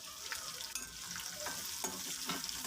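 Chopped onions and green chillies fry in oil in a pan for a ridge gourd and drumstick curry, a close sizzle broken by repeated stirring scrapes.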